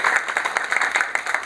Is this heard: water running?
no